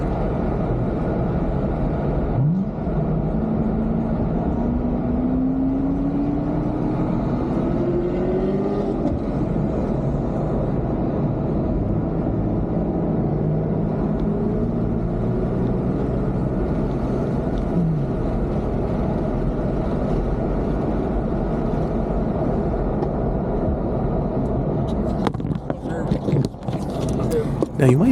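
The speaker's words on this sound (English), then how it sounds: "the car behind me with its turbo spinning up" Race cars circle the COTA track in Austin during a fan lap, with the turbo of a car behind spinning up. A steady, loud engine drone fills the whole stretch and a rising whine sweeps through, while voices talk over it.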